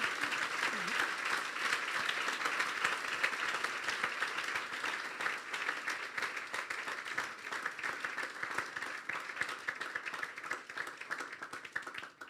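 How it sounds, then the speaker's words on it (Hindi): A church congregation applauds the preacher at the end of a sermon, sustained dense clapping heard from within the hall, steady and moderately loud for over ten seconds. "जोरदार तालियां खुदा के खादिम के लिए"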